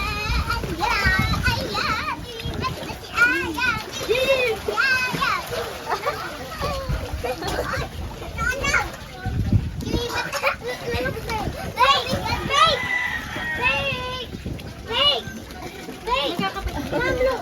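Several children swimming and splashing in water outdoors, continuous splashes and sloshing mixed with lively shouting and chatter from kids and an adult voice throughout, close and busy.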